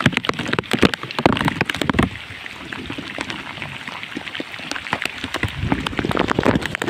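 Heavy monsoon rain pours down near flooded farm roads in Gujarat, a loud dense patter with sharp clattering drops hitting hard surfaces close by throughout.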